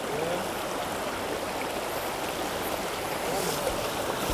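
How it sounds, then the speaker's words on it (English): Water in a Pennsylvania mountain brook trout stream rushes and burbles steadily, a broad constant wash close by with no talk over it. "Time to motivate to a new mountain stream."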